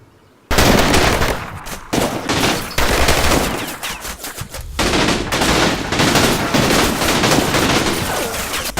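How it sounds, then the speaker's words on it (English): Sustained small arms gunfire in a video game battle at a building in Kharkiv, with dense rapid bursts of rifle and machine gun shots that start abruptly and stay loud and close throughout. "Small arms fire erupts immediately from the center corner building."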